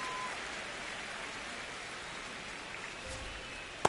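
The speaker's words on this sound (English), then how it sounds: "the field's not going to be able to hold up if the rain gets any worse than this" Steady rain falls on a baseball field during a game in MLB The Show, a constant soft wash of hiss throughout with no talk, ending in a brief sharp sound.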